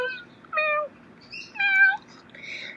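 A cat meows several times outdoors on a dead-calm day, with distinct separate calls spaced through the moment, fairly close and clear.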